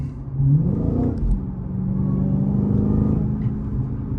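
A Dodge Challenger Hellcat engine rumbles steadily with deep low throb, briefly revving near the start, then cruising with a sustained growl.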